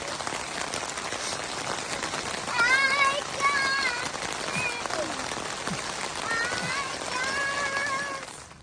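Heavy rain pours steadily onto a camping tent near Yellowstone, a dense close patter that never lets up, with faint voices and humming heard beneath it at times.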